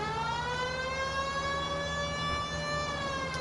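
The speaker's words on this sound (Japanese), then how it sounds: "やっぱサイレン鳴らさないとダメだな。" A police car siren wails steadily in the L.A. Noire video game. The tone is sustained and moderately loud, with faint engine and road noise underneath and no voices.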